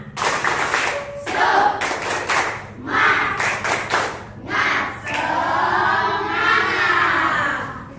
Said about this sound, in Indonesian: coba dulu kita adakan tepuk semangat.